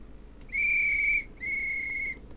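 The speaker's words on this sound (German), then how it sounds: "Und dann wird einmal kräftig gepfiffen." Conductor's departure whistle on a platform in Train Simulator 2018, two long shrill steady blasts close and loud, the second just after a short gap, over quiet background hum.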